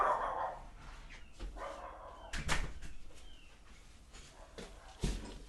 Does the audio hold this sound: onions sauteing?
no